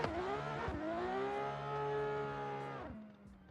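A VR38-powered drift car at a competition event revs hard and holds a long, loud engine note with shifting pitch, broken by brief dips between pulls, no voices over it.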